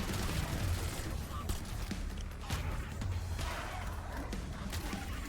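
Rapid SMG fire in Black Ops 7 Zombies, with repeated bursts of shots through a busy game mix of low rumble and clatter, fairly quiet overall.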